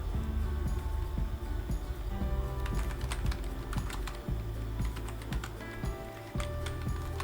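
Typing on a computer keyboard with caps lock on: quick, irregular clacks and taps from nearby keys, some strokes louder and sharper, continuing without pause and with no voices.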